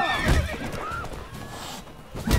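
A horse neighs in The Witcher 3 video game, a loud close whinny with a rising and falling squeal, plus a few hoof clops and game noise.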